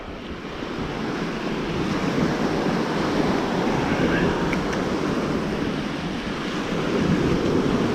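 Sea waves wash steadily onto the shore as the tide comes in, a broad continuous rush of surf with some wind noise across the microphone, close and fairly loud.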